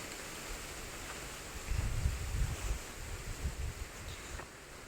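Strong wind gusts roar in outdoors, a rough, rumbling buffet that swells in the middle and buffets the microphone, with no voices.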